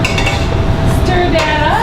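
Soup being stirred in a pot, the liquid thickened with a roux ahead of milk and shredded cheddar, for a cheesy asparagus kielbasa soup; the spoon scrapes and clinks against the pot continuously at close range.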